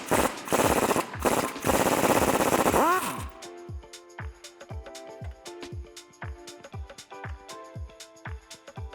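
The bottom shock bolt on a Jeep Wrangler JL comes undone with an 18mm tool: a loud, continuous power-tool burst for about three seconds, then a long run of quick, even ratcheting clicks up close.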